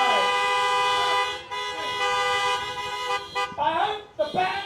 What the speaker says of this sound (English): So, no more horn honking.